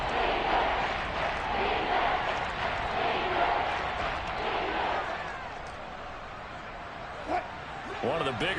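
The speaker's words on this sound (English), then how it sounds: "the crowd getting into it as we come up on a big third down" Crowd noise swells in a Madden football video game as a big third down approaches, a broad steady roar of cheering that carries under a commentator's voice throughout.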